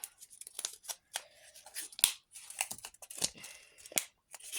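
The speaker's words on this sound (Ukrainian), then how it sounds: "Ось такий пакетик у нас красивенький. Легко відкривається." Close, crisp tearing and crinkling of a thin packet, in short irregular rips and rustles with small pauses between them.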